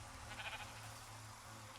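A bleating sheep from the Minecraft video game, an animal whose wool has been sheared off, gives a brief, faint call early on, heard alone against a low steady background hum.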